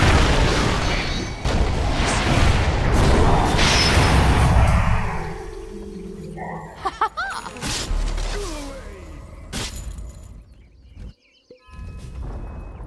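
Tower in Dota 2 under attack and collapsing, loud booms, whooshes and mechanical crunches for several seconds, then a sudden drop to near silence and a few scattered game effects.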